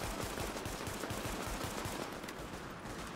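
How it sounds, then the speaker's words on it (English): Dense, continuous gunfire from the video game Tom Clancy's The Division, rapid automatic bursts blending into a steady crackling barrage, fairly quiet and distant, with no talk. "Can hear gunshots going on."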